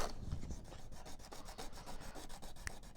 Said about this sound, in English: and then the sandpaper to shave this down